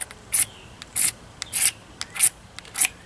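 A blade scrapes a magnesium fire starter in a series of six or seven sharp rasping strokes at a steady rhythm, close and alone.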